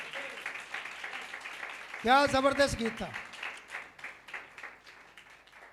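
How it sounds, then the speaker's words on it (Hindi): Applause from a church audience after a song, a soft continuous patter of many hands that continues under someone speaking loudly over it. "जोरदार तालियां"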